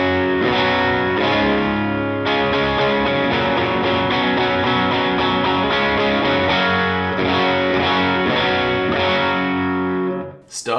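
Electric guitar driven through a Hungry Panda pedal with its hungry-side knob at unity, playing a continuous stream of slightly gritty, compressed chords and notes, loud and close, ending in a brief click.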